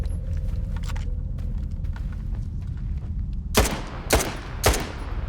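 Gunshots in the video game S.T.A.L.K.E.R. 2: Heart of Chornobyl, three sharp, loud cracks spaced about half a second apart over a low rumbling ambient background.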